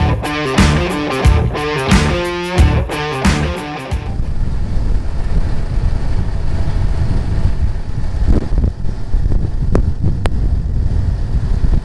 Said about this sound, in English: Now that the wind's kind of blowing by us